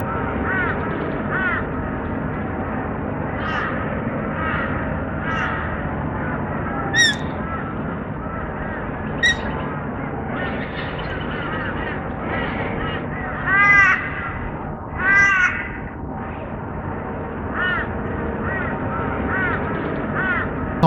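A flock of corellas resting in the shade calls repeatedly, harsh raspy squawks rising over a continuous chattering din of the birds, with a few louder screeches standing out near the end, fairly close and without talk.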